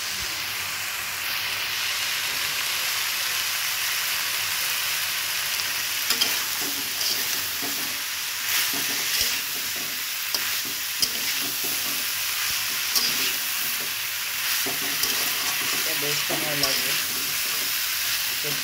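Vegetables and spices frying and being stirred in plenty of oil for a Rajshahi-style curry with drumstick, potato, pointed gourd, pumpkin and jackfruit seeds; a steady close sizzle runs throughout, with intermittent scraping stir strokes and no talk.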